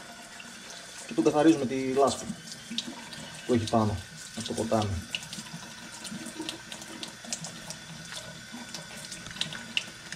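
Tap water runs steadily into a sink as a muddy river crab is scrubbed clean with a toothbrush, a close, continuous splashing stream with someone speaking briefly over it.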